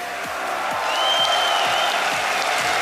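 A large esports crowd at DreamHack Winter in a Counter-Strike: Global Offensive final applauds and cheers, with the clapping swelling into a sustained roar and a whistle rising through it.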